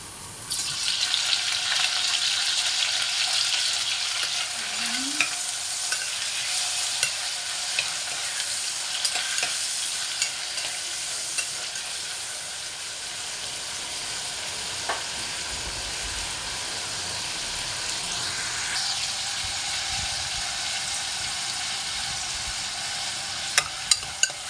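Tomatoes sizzle in a hot pan for a Filipino mung bean stew, a steady broadband frying hiss with stirring scrapes running throughout, a faint tap-water splash now and then, no voices.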